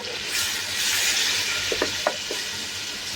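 Tomatoes and onions sizzle steadily while frying in a pan, with a few light scrapes and knocks of a utensil as the mixture is stirred, close and moderately loud with no voices.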